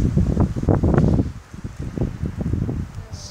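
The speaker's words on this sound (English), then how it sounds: "There's blasting wind hitting me." Strong gusts blast against the microphone outdoors at a World War II monument in Montenegro, a loud, close, rumbling buffet that surges and dips for a few seconds.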